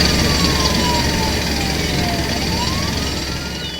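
Emergency vehicle sirens wail through city noise of traffic and construction. Rising and falling siren sweeps sit over a dense, loud, constant roar of urban rumble, with no voices.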